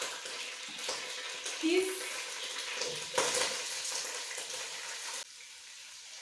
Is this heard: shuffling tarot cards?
no